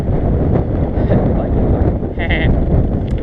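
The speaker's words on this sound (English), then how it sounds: "side wind. Not the best when you're biking." Strong side wind buffets the microphone while a cyclist rides down a hill road, a loud continuous rumbling roar that fills the whole stretch.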